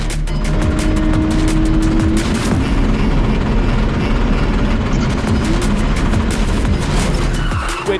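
Porsche sprint-challenge race cars roar around the circuit, a loud, constant engine drone with shifting pitch as cars pass and a brief tyre squeal near the start.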